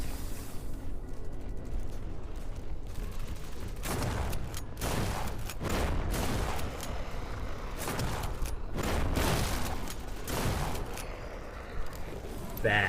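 Shotgun blasts in a horror video game ring out as repeated loud, booming shots spread across the stretch, layered over constant game noise and a talking voice.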